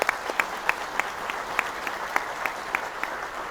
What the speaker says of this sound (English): We can go ahead and clap.